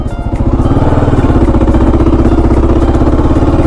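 A motorcycle engine idles loudly and close, with a steady rapid chugging rhythm and mechanical clatter that barely changes.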